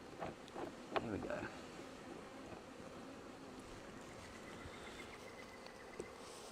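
Honeybees droning steadily in an opened hive during a hive split, a low continuous buzz throughout with a few brief knocks early on and faint talk in the background.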